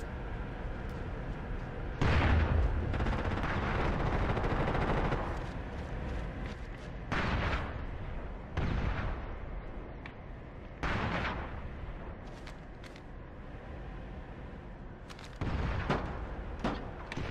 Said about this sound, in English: You can hear that they're staggering. They're staggering their grenades.